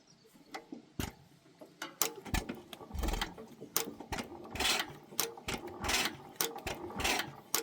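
An old engine at a working museum on a 2-foot gauge railroad turns over with rapid, uneven mechanical chugs and clatter, each compression stroke thumping out loud and close, with no talking.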